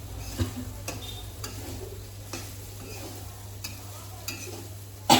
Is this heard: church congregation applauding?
no